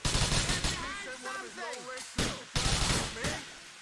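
Rapid bursts of gunfire in Grand Theft Auto IV, loud and close, firing in several volleys separated by short pauses, with voices speaking in between.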